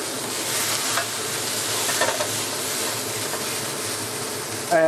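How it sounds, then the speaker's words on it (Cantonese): Loud, steady sizzling of garlic and diced onion stir-frying in a hot wok, with scraping and tossing sounds over continuous hiss. "蒜蓉同埋洋葱粒咧，我哋就倒翻晒落去啦。 咁啊起一起鑊啦，咁啊炒一炒佢先"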